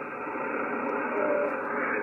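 A weak 40-meter ham radio signal comes through a Yaesu MTU-80/40 preselector as band-limited hiss and murmur, steady and fairly faint, with a slight swell partway through.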